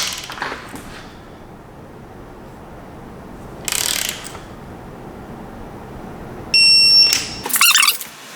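Torque wrench ratcheting in separate bursts while tightening SR20 engine bolts to 40 foot-pounds, with close, loud clicking runs around four and seven to eight seconds and quieter stretches between.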